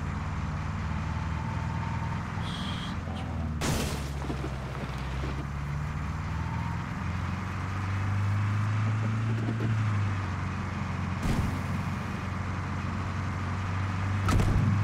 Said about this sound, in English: Such a like a suppressed engine sound, doesn't it?